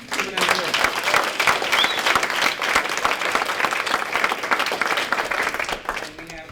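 Audience at a community dinner applauding award recipients as their names are read, a dense, steady wash of many hands clapping that fills the room before tapering slightly at the end.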